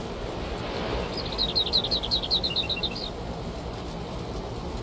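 Birds chirp in the video game Valheim, a quick run of bright, evenly spaced tweets lasting about two seconds over a steady ambient wash, with no talking.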